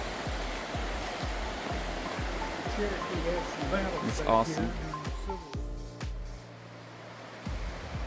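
Creek water rushing steadily beside the Goshen Prong Trail in the Smoky Mountains, a close, continuous broadband wash with brief speech over it and some footsteps.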